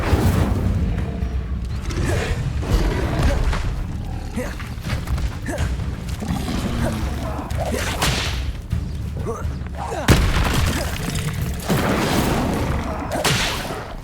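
Incendio fire spell cast in the Hogwarts Legacy video game, a burst amid a dense, continuous wash of game combat effects with whooshes, booms and clatter, with voices calling out spells over it.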